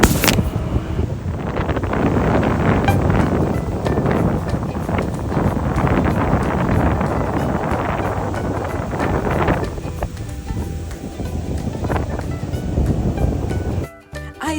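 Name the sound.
strong wind gusts in North Dakota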